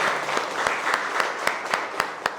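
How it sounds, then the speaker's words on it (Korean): An audience at a fall seminary lecture gathering breaks into applause, a dense patter of many hands clapping steadily with a few sharp, louder claps standing out. "우리에게 이런 복된 기회를 주신 하나님께도 영광의 박수를 한번"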